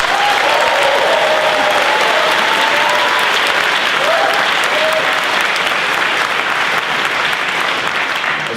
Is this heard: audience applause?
yes